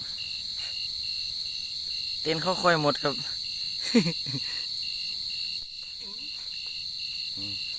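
Mole crickets chirp in a steady, high-pitched drone throughout, with someone talking briefly over them.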